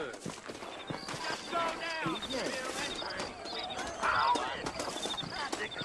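Hooves clip-clopping from saddled horses outside in Red Dead Redemption, set in New Orleans, a steady clatter running under continuous conversation between characters.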